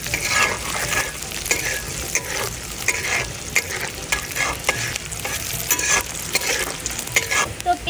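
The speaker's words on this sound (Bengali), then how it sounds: "তো এবার আমি ভালোভাবে একটু নেড়ে নিব, আর বাদামি কালার পর্যন্ত অপেক্ষা করব।" Chopped onion and green chillies fry in oil while a spoon stirs steadily, a loud close sizzle broken by rhythmic scraping strokes against the pan throughout.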